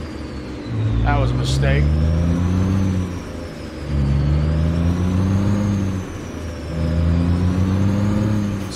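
A Peterbilt semi truck in American Truck Simulator revs up loudly while pulling away in first gear, its engine pitch climbing, dropping at the shift and climbing again in repeated surges, with someone briefly speaking over it.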